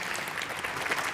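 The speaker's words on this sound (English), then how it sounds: "You can clap if you want." An audience at a Prometheus conference talk claps, giving a short burst of dense, even applause lasting just over a second, with no talking over it.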